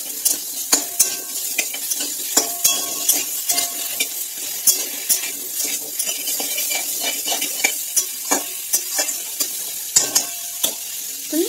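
Potatoes and onions fry over raised heat in a pan, a continuous hissing sizzle punctuated by regular metallic taps and scrapes of a spatula stirring.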